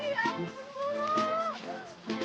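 A cow, being held and calmed, lets out a drawn, wavering moo that rises and then falls, close and fairly loud, with brief rustling and faint voices around it.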